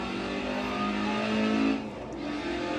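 A roughly 200-horsepower car revs hard through a corner in a VR racing simulator, its engine note loud and steady, rising slightly before easing off near the end.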